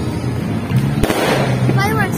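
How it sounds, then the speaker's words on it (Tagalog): Judas belt firecrackers crackle on New Year's Eve in the Philippines, a chain of sharp pops with one louder bang partway through, while people talk nearby. "Fireworks yan."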